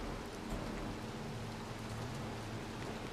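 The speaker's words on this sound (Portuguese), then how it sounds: "Tá chovendo no jogo aqui também" Steady, dense rainfall from the video game Little Nightmares 2 hisses evenly throughout, a soft continuous wash of drops without any other sounds.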